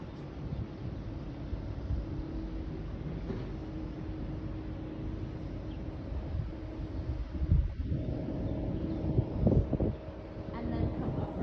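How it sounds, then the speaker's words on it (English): Strong wind gusting outdoors during a yoga session, a steady low roar with buffeting bursts into the microphone, while someone talks through it. "I know it's a little hard in this wind"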